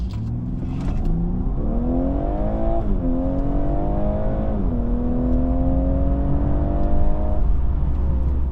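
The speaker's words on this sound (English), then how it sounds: "Let's now find out how it accelerates." Audi A5 2.0 TFSI Quattro with an S-tronic automatic gearbox accelerating hard from inside the cabin, the engine note climbing steadily through gear changes, loud and continuous with no talking.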